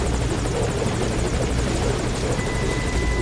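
A helicopter in the video game Metal Gear Solid V: Ground Zeroes thrums loudly and steadily, its rotor chop filling the whole stretch with dense, close noise and no talk.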